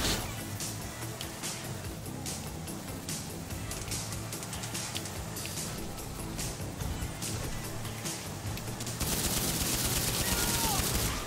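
Rapid gunfire in Grand Theft Auto V for the Xbox 360, with bursts crackling over a roaring car engine and a louder, harsher blast near the end.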